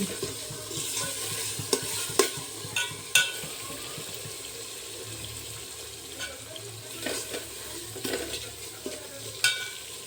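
Masala rice being stirred in a pot with a spoon, scraping and clinking in irregular bursts over a low hiss of cooking, close and moderately loud with no talking.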